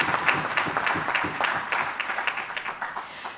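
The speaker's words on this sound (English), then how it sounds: "let us give the association another round of applause" A round of applause for the Jamaica Teachers Association at an awards ceremony, steady clapping from an audience that slowly thins out and fades.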